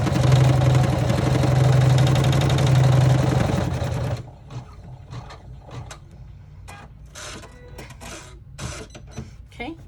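An embroidery machine stitches the tack down on an in-the-hoop wallet, a fast steady mechanical chatter with a humming drone for about four seconds, then stopping and leaving scattered clicks and handling noises.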